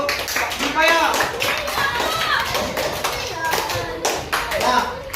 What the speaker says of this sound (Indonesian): tepuk tangan yang beliau untuk Dipa ya